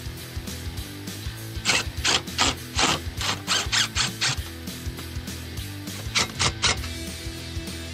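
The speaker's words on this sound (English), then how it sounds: "now I'm ready to install the optional Regal self-tapping screw, which is perfect for holding this into place" A power drill drives Regal self-tapping screws into QuickStep stair nosing through a bit extender, in a series of short, loud whirring bursts with brief pauses between them.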